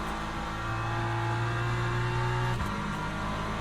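Hypercar engine in Le Mans Ultimate racing, a loud sustained drone with a steady low tone that drops away near the end as the car passes.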